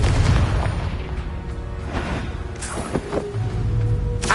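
Explosive spell blast in a Harry Potter video game, a dense booming burst with crackling debris over a constant game background, several sharp impacts following in close succession.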